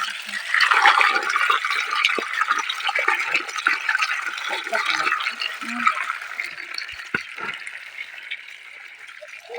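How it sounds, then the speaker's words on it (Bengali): Water gushes from a pipe over freshly cut fish held by hand, a continuous splashing rush, near and fairly loud, with scattered drips and clatters as the fish are handled. "এখন এই যে মাছ ধোয়া হচ্ছে, কাটা শেষ"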